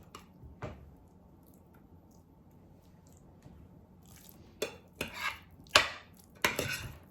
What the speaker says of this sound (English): I'm just gonna sprinkle these all around.